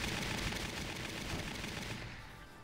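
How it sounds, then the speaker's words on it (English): Gunshots in the Valkyria Chronicles game, rapid automatic fire rattling steadily for nearly three seconds, loud and close with no talk over it. "I have a gun. I'll shoot."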